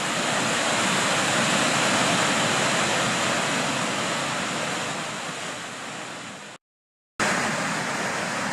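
Water rushing fast under a bridge just above a waterfall in Hiawathaland, a loud, steady broadband roar filling the whole stretch, briefly cut to silence near the end before resuming.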